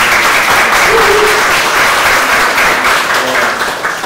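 A church gathering audience applauds steadily for several seconds, a dense, loud wash of clapping that holds evenly from start to finish.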